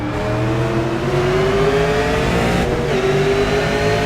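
Super Late Model race cars roar back up to speed on the restart at the Milwaukee Mile, engines revving loud and steady as the pack accelerates, pitch rising across the whole stretch.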